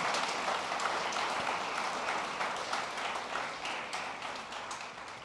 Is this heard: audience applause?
yes